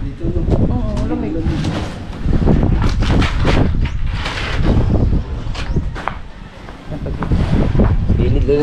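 Wind buffets the microphone in a steady roar, with people talking throughout over the rushing gusts.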